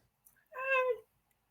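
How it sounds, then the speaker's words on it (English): A single cat meow, clear and close, lasting under a second with a short faint rustle before it and quiet after. "Cat."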